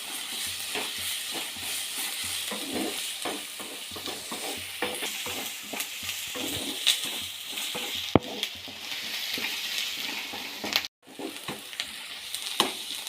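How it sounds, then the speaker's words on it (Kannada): Onions and curry leaves frying in oil until brownish for an egg masala, a continuous soft sizzle with frequent stirring scrapes and a couple of clunks near the end, no talking. "ಫುಲ್ ಬ್ರೌನಿಷ್ ಆಗೋವರೆಗೂ ಈರುಳ್ಳಿನ ಫ್ರೈ ಮಾಡ್ಕೊಳ್ಳಿ."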